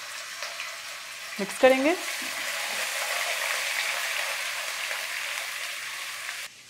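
Ginger garlic paste hits hot oil with a sharp splash, then a steady close sizzle and frying hiss continues while being stirred, with a brief spoken remark near the start.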